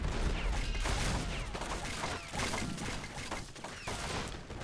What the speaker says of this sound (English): guns are so loud.